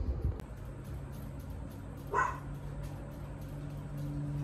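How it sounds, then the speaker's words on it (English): A single short dog bark, fairly distant, over a steady low background hum. "Just waiting for the barking to end"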